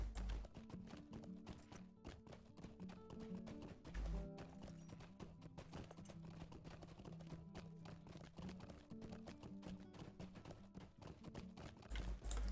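Horse hooves in the Lord of the Rings Online video game, a steady clip-clop of a trotting mount under continuous game music and ambience, moderately loud throughout.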